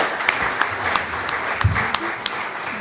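Audience applause at a molecular genealogy conference, steady clapping from a crowd with a few sharper individual claps standing out, moderately loud and continuous throughout.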